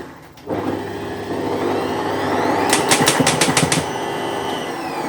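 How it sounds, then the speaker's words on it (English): A blender running on a kitchen counter, whirring steadily for about five seconds after a sharp start, with a burst of rattling clatter in the middle as radish kimchi ingredients churn. "not too proud of the blender"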